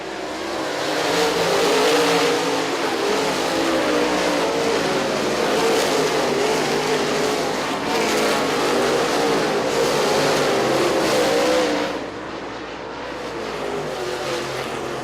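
Race cars roar around an oval track at a feature race, engines blaring continuously and loud as the pack passes, with the noise easing slightly near the end.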